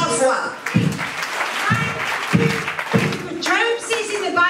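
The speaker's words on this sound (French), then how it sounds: "Let's clap 3 times." A conference audience at a healing and revival event claps three times in unison, three sharp evenly spaced beats standing out over a background of murmuring and singing voices.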